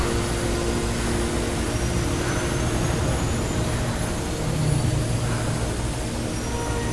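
Helicopter in the Mirror's Edge video game, a continuous loud rotor and engine roar that holds steady throughout with a slight swell near the end, no speech.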